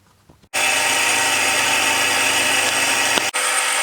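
A grinding wheel bites into saw cutters, cutting gullets freehand: a loud, steady abrasive whine that starts abruptly, holds for about three seconds, and cuts off sharply.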